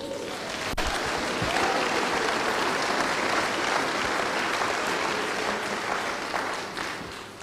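A church congregation applauding during a French-language sermon: sustained loud clapping from a crowd that swells and holds for several seconds, then tapers off near the end.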